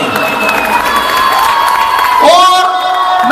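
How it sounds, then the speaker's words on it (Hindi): An audience at a school's foundation day celebration cheers and shouts loudly, with children's voices rising over steady applause, all close and sustained. "इनके लिए जोरदार ताली बजाई जाए।"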